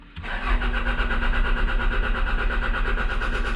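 A 1991 Toyota Celica GT with a newly installed fuel pump cranks briefly, then its engine catches and runs at a loud, steady, close idle with a slight rhythmic pulse and no talk.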